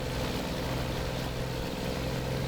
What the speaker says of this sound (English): Listen to the sound of that Cummins.